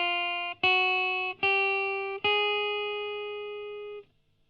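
Clean guitar notes from a fretting finger exercise, four sustained notes struck one after another with steady spacing, each ringing and slowly decaying, played alone at moderate volume.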